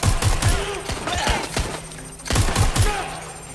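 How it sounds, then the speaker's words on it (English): Gunfire in Watch Dogs Legion: loud bursts of rapid shots in two clusters with sharp thuds between them, a voice speaking under the shooting. "I'm taking fire!"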